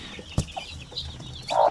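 Asil hens, one with whisker-like facial feathers, give a few short nearby clucks: a brief one early, then a louder burst of clucking at the end, with no talk.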